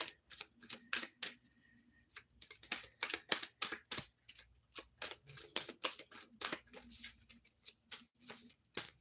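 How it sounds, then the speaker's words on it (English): A deck of playing cards being shuffled in a steady run of crisp riffles and snaps, close and fairly quiet, with no talk. "I just started shuffling"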